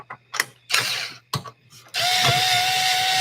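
A small 4-volt cordless power driver gun, used while working on a Mustang, gives short ratcheting bursts that settle into a steady, loud whirring run close by, with no talking over it.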